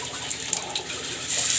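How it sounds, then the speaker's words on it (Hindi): Water pours in a short, steady splashing stream into a bowl of gram flour batter for besan chilla, close by and without talk. "पानी डाल दो इसमें"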